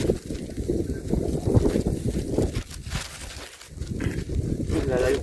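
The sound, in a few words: strong wind blowing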